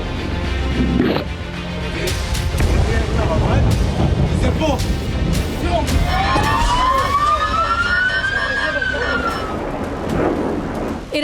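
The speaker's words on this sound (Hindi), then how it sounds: "हर गली में सायरन की गूंज" Emergency sirens wail through city streets in Israel during an Iranian missile attack, a rising and falling tone sweeping over dense background noise and distant rumble.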